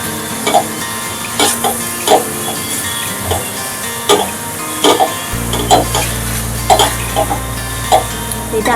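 Tomatoes added to softened browned onions in a cooking pan and stirred for dal khichdi: repeated scraping strokes of a spoon against metal in a steady rhythm, close and loud over a continuous sizzle, with no talk.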